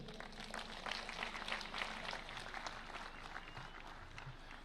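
A crowd at a Mashujaa Day celebration in Kitui County, Kenya, applauds steadily, a dense wash of clapping at moderate distance that holds evenly throughout.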